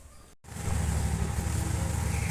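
A motorcycle engine fitted with a Juken 5+ carburetor, set up for cold running, cranks with a brief gap and then catches into a loud, steady low rumble close to the mic.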